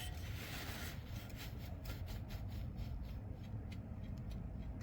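Worn fan clutch on a 1982 Mercedes-Benz 300D diesel engine, a faint, continuous low rumble with a scraping, rubbing whir running steadily throughout, with no voices.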